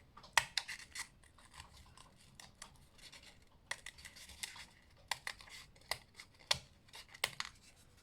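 Small scissors snip in quick irregular bursts, sharp crisp cuts close up with faint rubbing between them, no talking.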